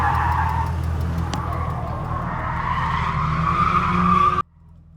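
Tires skid in a long, continuous squeal as a Mk4 VW GTI drifts, loud and close over the engine's drone, cutting off abruptly near the end.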